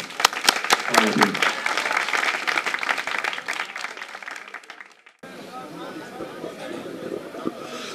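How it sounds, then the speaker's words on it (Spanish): An audience at an outdoor river festival applauds, close and dense at first and then tapering off. After an abrupt cut a quieter crowd babble with a few scattered claps carries on. "molim još jedan veliki aplauz za njih dvoje"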